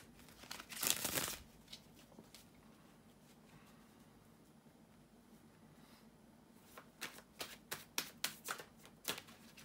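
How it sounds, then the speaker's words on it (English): Tarot cards riffled and shuffled up close: a dense burst of papery flicking, a quiet pause, then a run of sharp rapid snaps and taps. "bear with me a second, guys, to shuffle the tarot cards"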